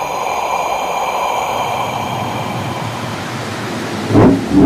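A storm roars as steady broadband wind and rain noise, loud and close, with a low thunder rumble swelling near the end.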